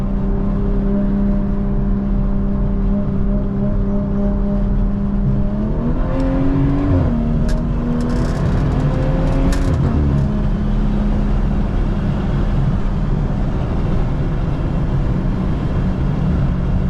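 BMW 340i with a B58 engine revs while driving: a steady droning exhaust note climbs sharply around the middle, holds a higher pitch with some crackle, then drops back to a constant cruising hum, close and loud throughout.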